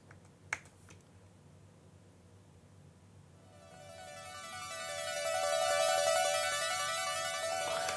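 A Logic Pro Retro Synth with an asymmetrical square wave plays a buzzy, bright tone that swells from faint to loud over several seconds and then holds steady, preceded by a soft click.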